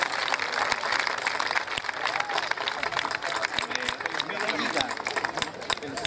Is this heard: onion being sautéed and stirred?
no